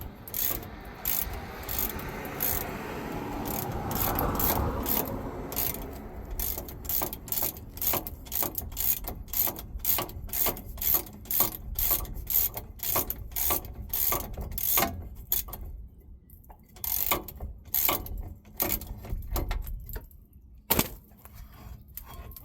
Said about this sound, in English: You are going to need a breaker bar or a big ratchet with a breaker bar